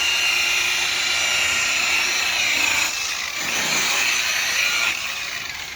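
A rotary buffer polishing the hull of a boat gives a steady, loud, high motor whine with a broad hiss. The pitch dips and shifts slightly midway as pressure changes, continuous and close, with no talking.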